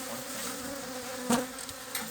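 Honey bees buzz steadily nearby, one droning louder for a moment as it flies close past, with the hum continuing throughout.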